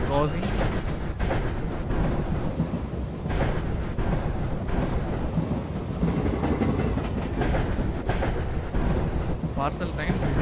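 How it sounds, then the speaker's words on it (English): A parcel train passes an Indian express in Train Simulator, giving a loud, steady rumble with rhythmic clickety-clack of wheels over rail joints across the whole stretch. "So the parcel train is crossing."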